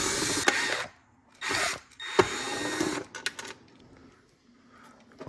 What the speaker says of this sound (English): Need to undo the latch screws to get to the keypad.